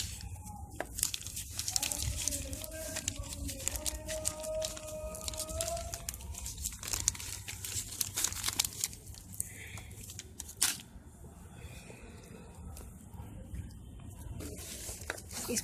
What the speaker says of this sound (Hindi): ये जो इसकी पॉलीथीन है इसको काट के निकाल लें